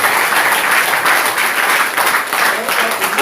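A church congregation applauds together in a short burst of dense, lively clapping, fairly loud and continuous for about three seconds, with voices mixed in.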